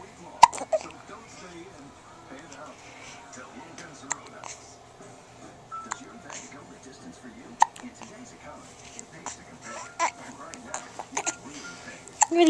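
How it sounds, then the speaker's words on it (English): Repeated hiccups from a pet, short sharp jolts at irregular intervals spread through the stretch, with soft breathy sounds and a person murmuring quietly in between. "Get the crazy hiccups."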